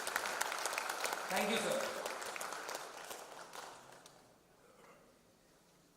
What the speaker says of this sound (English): I will request the House to kindly give a huge round of applause for all the speakers of the inaugural session.